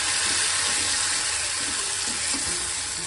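Ground peanut paste sautés in a pan over a low gas flame for a fasting amti, giving a steady, soft hiss and sizzle with faint stirring and no talk.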